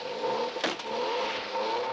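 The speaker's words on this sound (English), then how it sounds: "This is the new Volvo GLT Turbo." A Volvo GLT Turbo car engine revs in an advert: a brief, rising whoosh bursts out near the middle over a steady mid-level hum, with no talking.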